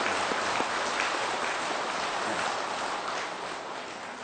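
Audience applause during a Buddhist dharma talk given by a senior monk, a steady dense wash of clapping through the whole stretch that fades slightly toward the end.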